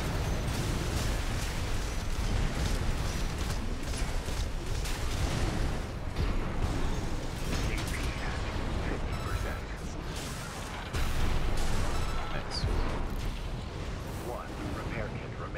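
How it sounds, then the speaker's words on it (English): Explosions and heavy impacts as a tank is destroyed in the mech combat game Armored Core 6, a dense, loud, continuous barrage of booming blasts and mechanical clatter over the whole stretch. "Let's take out this camera over here real quick before I lose the mission. And let's take out the tank again."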